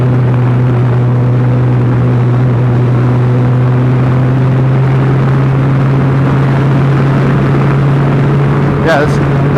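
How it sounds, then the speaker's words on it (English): Wind roars loudly and constantly around an open-cockpit BAC Mono car at road speed, blending with a steady low engine drone throughout, with a faint brief voice near the end. "Quite a bit of wind noise."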